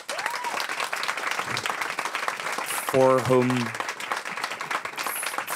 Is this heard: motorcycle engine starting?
no